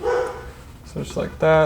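A dog barks a few times nearby while a person talks over it.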